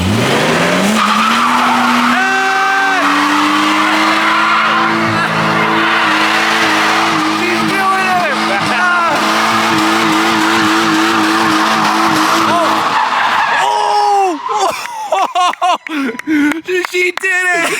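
Car doing a burnout with tires spinning, a long rising engine roar and screeching tire squeal, loud and sustained, then fading into excited voices and shouting.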